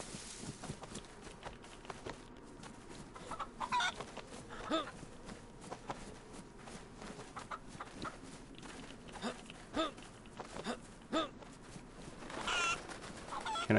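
A chicken in a video game clucks in short, scattered bursts over steady game ambience, with mid-level, intermittent clucks spread across the stretch.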